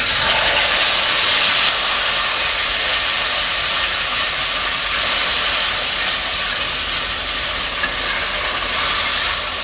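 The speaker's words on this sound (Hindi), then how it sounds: "अब इसमें हम डाल रहे हैं मसाला सरसों वाला।" Mustard masala hits hot oil in a kadai, just after fenugreek seeds were cracked in it, giving a loud, steady, close hiss and sizzle that holds without a break and with no talking.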